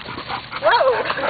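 Golden retriever giving a short, high yip-like bark at a dog park, a single brief call close by amid background chatter.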